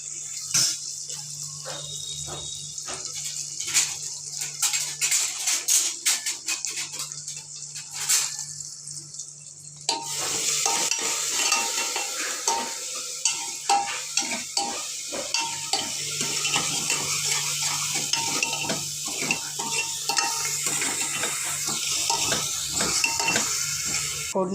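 Green chilli, garlic, cumin and coriander temper in hot oil for a mung bean dish, with a spoon stirring and clattering against the pan. Brisk metallic scrapes and taps come first, then a constant sizzle sets in under continued stirring clinks.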